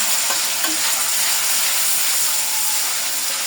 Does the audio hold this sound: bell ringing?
no